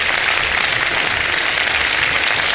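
Studio audience on a Ramadan iftar game show clapping, a loud dense burst of applause sustained evenly for the whole stretch without pause.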